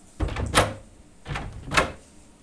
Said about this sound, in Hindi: जैसे ही दरवाज़ा खोला